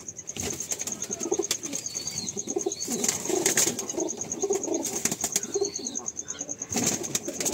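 Female pigeons at a home loft coo softly amid scattered chirps and light wing flutters, with a steady high-pitched background tone running throughout.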